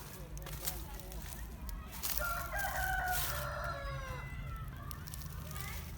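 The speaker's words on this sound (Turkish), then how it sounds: "Tavuklar da geldi." Chickens cluck softly nearby, with a drawn-out, crowing-like call rising in the middle before the clucks trail off.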